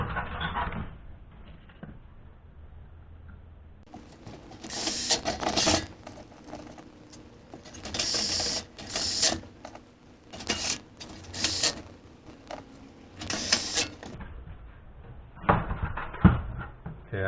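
Screws are driven into sheet-metal panels of a Case IH 7250 combine tin bench, with bursts of a power driver whirring and rattling in short repeated runs, separated by quieter handling clanks.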